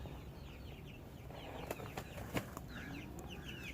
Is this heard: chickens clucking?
yes